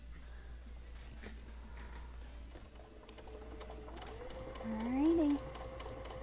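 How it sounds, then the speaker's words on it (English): A sewing machine stitching straight down a fabric tab runs as a steady mechanical whir and tick under a brief spoken remark, with a low constant hum beneath. "we're just going to sew right down, all the way straight down the tab piece"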